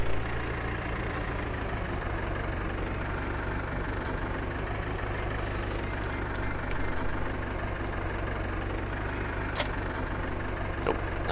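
A tractor fitted with front dual wheels idles in Farming Simulator 2013, a steady low engine drone that holds without change, with faint high ticks over it.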